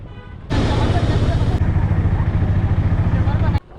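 A fully loaded shared auto rickshaw engine chugs steadily at close range in Akkalkot, India, rattling and droning throughout with a constant mechanical throb.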